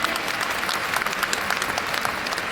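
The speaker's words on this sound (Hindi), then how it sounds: "जो लोग आज यहाँ पे आ चुके हैं उनके लिए एक बार जोरदार तालियां में बजा लेंगे" A crowd at a celebration program held in a stadium claps loudly and continuously, a dense, crackling burst of applause that carries through without pause.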